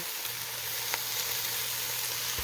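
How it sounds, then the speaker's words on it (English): Onions and garlic sizzling as they cook down in a large pot for spaghetti sauce, a dense, steady crackling hiss that stays loud and close throughout with a faint low hum beneath. "I've been letting the onions and the garlic cook down"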